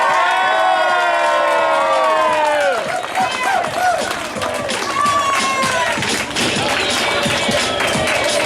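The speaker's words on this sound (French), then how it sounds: "Le public, on peut applaudir un petit peu plus quand même." A crowd at the Miss Festi'Cadillac 2024 pin-up pageant cheers, whoops and claps loudly and continuously after a result is announced, while an amplified voice speaks over the noise.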